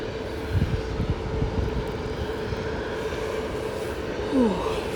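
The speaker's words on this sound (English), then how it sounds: "the engines still sound like they're running." A steady, low roar of parked airplane engines running continuously in the distance, with no speech.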